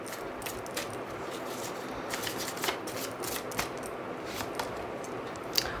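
Tarot cards are shuffled and drawn at close range, a soft continuous riffling and flicking with scattered crisp snaps, fairly quiet and with no talking.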